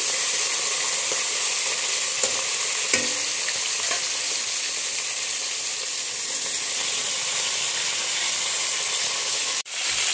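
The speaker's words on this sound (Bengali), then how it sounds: "দেখো আমার মাছটা ভাজা হয়ে গেছে" Fish heads frying in hot oil for a taro-stolon curry: a steady, dense sizzle and crackle throughout, close and loud, with a few faint scrapes and a brief dip near the end.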